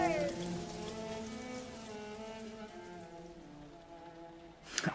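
Steady rain falling outdoors in a radio drama scene, a soft continuous patter with a voice talking over it and a brief louder splash or rustle at the end.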